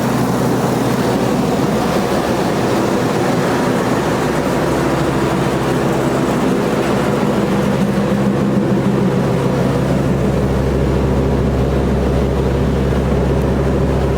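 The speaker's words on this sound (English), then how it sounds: "Motor quiet too. V10." Steady low rumble of a Ford 6.8L V10 truck engine with 341,000 miles idling, even and unbroken throughout, with a deeper drone emerging toward the end.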